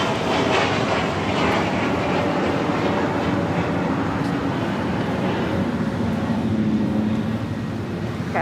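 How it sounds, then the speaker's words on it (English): A Challenger 350 business jet arrives at LAX from Santa Barbara, a continuous broad jet rumble holding at steady strength throughout with no talk over it. "This Challenger 350 coming in from Santa Barbara"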